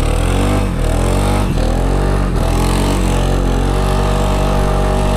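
Polaris Sportsman ATV running in rear-wheel drive on a familiar trail, its engine a loud, steady close-up drone with small shifts in pitch as the throttle rises and eases, no talking.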